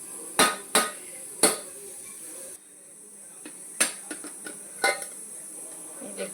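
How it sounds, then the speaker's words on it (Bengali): A cooking-pot lid lifts off after simmering prawn curry, giving a few sharp metallic clanks and clatters, close and moderately loud, with quieter scattered knocks afterward and no talking. "এবার আমি ঢাকাটা খুলে দেখে নেব।"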